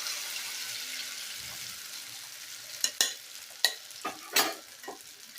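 Egg, potato and spice mixture hits hot oil with a steady broadband sizzle, punctuated by a few sharp spatter bursts and scraping clicks near the end; no talking.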